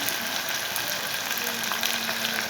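Onion and tomato frying in a spoonful of ghee, a steady broadband sizzle that fills the pan close up, with a faint low hum running beneath it.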